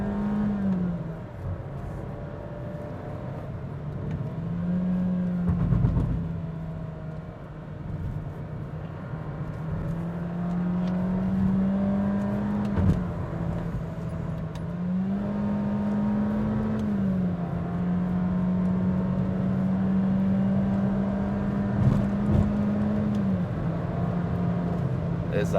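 Engine drone from a Honda City driving down a mountain road on Genting hill, the steady interior hum shifting pitch as the car rolls along, with road noise and a few faint bumps throughout.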